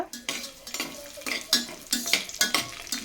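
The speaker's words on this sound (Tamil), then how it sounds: "இது கூடவே ஹோல் கரம் மசாலா சேர்த்துக்கோங்க சேர்த்துட்டு நல்லா ஃப்ரை பண்ணி விட்டுக்கோங்க" Ghee with whole garam masala frying in a pan for veg biryani: a close sizzle broken by several sharp metal spoon scrapes and clinks against the pan as it is stirred, with no talking.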